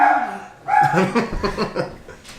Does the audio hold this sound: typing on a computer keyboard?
no